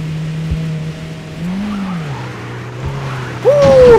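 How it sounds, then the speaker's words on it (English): Car drifting and skidding in the driving game Beware: a steady engine drone rises and dips, then a sharp high tire squeal cuts in near the end, fairly close and alone. "Look at that drift!"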